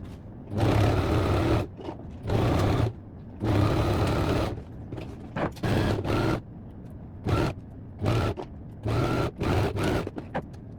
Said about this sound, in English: I'm going to go ahead and sew all that together on the lining and on the fabric.